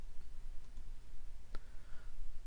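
A single sharp computer mouse click near the middle, selecting Pivot Chart in a spreadsheet, heard over steady low room hiss.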